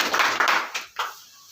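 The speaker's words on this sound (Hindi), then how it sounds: "सर के लिए एक बार जोरदार तालियां" Brief clapping from the audience at a gas equipment demonstration, a short dense burst that fades out over about a second, recorded close in an indoor setting.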